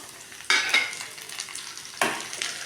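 Onion and tomato sauté in a pan with salt for a buttermilk curry, two bursts of stirring raising a crackling sizzle that fades to a steady fry between them.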